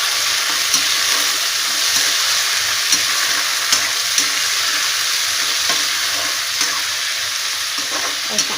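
Potatoes frying with onion, cumin and dried chilli in a home kitchen pan, a steady loud sizzle with occasional stirring clicks throughout, no voices.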